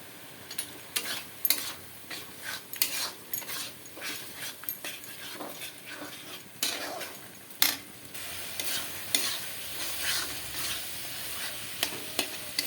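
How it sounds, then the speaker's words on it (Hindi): Masala with chopped tomato, chicken masala, garam masala and kasuri methi sautéing in a pan, a quiet sizzle broken by repeated sharp scrapes and taps of a spoon stirring. "मसलाटा भल भाव में कषि हो गलानी"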